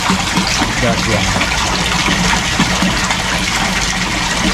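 Water pours steadily from a koi pond filter hose with the valve fully open, a loud, continuous, close gushing rush with no break.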